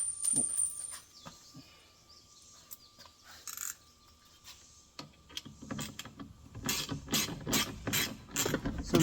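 A hand ratchet clicks in quick bursts while tight bolts on a Ford F-150 Supercab rear door are loosened by hand, the rapid clicking growing busier and louder toward the end.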